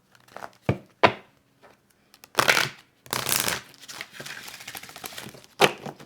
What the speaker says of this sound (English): I'm going to reshuffle